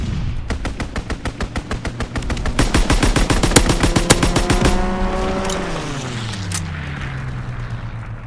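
Aircraft strafing run in a video game: a rapid, loud machine-gun burst rattles in an even fast rhythm for several seconds, then a plane engine roars past with a falling pitch as it flies away.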